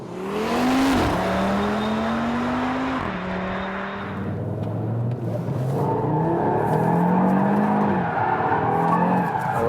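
A 2022 Audi RS3 accelerates hard on a racetrack, its loud engine note climbing through the gears with shift breaks and tire squeal, heard from inside the car with no talking.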